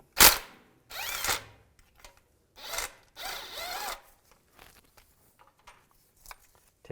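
Ratchet fitted with a 15mm socket working engine bolts loose on a 2002-2009 Chevy Trailblazer, heard as several separate bursts of rasping clicks with short quiet gaps between them, close by and without talk.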